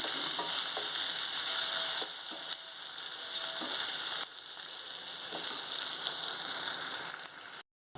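A tempering of urad dal, cumin, mustard seeds, dried chillies, curry leaves, crushed garlic and onion fries in oil, giving a continuous close sizzle with occasional clicks and scrapes of stirring before a brief dropout near the end.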